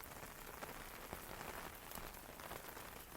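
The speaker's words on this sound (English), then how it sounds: "Outside, raindrops glide over the roof in long, whispering lines" Steady, even rain pattering on a glamping tent roof, a dense, constant hiss of drops without pause, close and soft, no voices.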